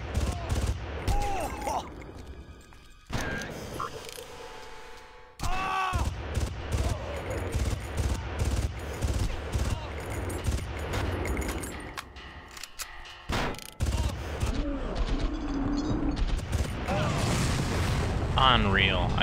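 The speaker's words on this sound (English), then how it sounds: "he just launched a rocket dead ahead, right at me" Enemies launch rockets in the first-person shooter Far Cry, with repeated loud blasts, gunfire bursts and explosions in a chaotic firefight, broken by brief quiet gaps.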